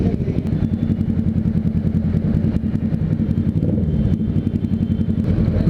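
A Kawasaki Z650 motorcycle idles close by with a steady, deep, even thrumming and a light mechanical clatter, running alone without talk.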